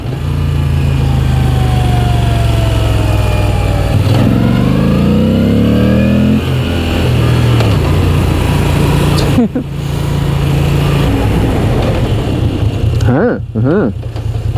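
A 2016 Moto Guzzi V9 Bobber motorcycle engine heard while riding, revving up and down through gear changes with a loud, close, throaty drone and brief gaps where the throttle eases off.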